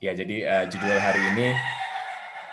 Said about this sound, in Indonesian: aduh maaf kalau suara ayam jago saya masuk